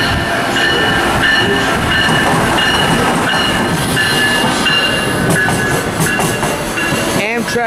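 An Amtrak train hauled by an ACS-64 electric locomotive passes through Trenton station on the Northeast Corridor: a loud, close, continuous roar of rolling wagons with high wheel squeal, with faint voices in the background.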